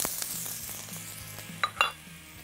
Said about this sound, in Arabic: انا هبتدي الاول هحط البصل